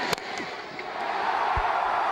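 A crowd roars at a T20 cricket match, a broad sustained swell of cheering that builds steadily, with a few sharp knocks at the start.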